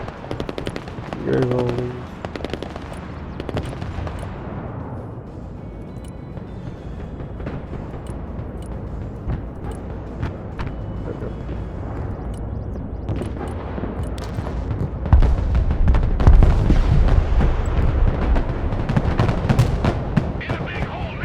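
Gunship gunfire pounding enemy positions in the video game Broken Arrow: dense, loud bursts and rumbling impacts build through the clip, swelling heavier near the end, with a voice talking briefly over the noise.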